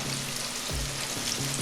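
Asparagus spears frying in a pan, a close, steady sizzle with a few soft thumps and knocks as the pan is nudged.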